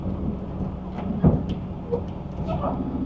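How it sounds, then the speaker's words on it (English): A train rumbles past near an RV park, a low broad roar with a brief louder swell midway and faint clanks above, people murmuring now and then. "I hear a train."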